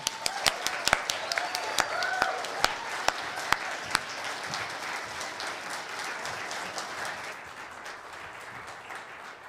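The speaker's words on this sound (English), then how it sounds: "the rest of us will give you a heartfelt applause" Church congregation at a Sunday service applauding: a few sharp, close claps at the start, then a broad, even wash of clapping that gradually fades.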